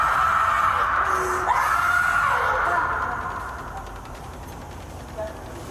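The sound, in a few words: woman screaming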